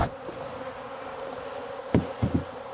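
Honey bees hum steadily around an open hive during a fall inspection, a dense continuous buzz with a few brief knocks and taps near the end.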